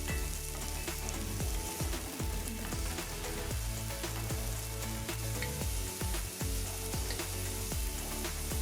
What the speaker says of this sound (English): Add the onions first and let that saute on medium heat and flavor up the oil